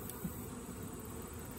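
Honeybees buzzing around a frame of drawn comb with eggs lifted from a nuc hive, a steady low faint drone close by with no talk over it.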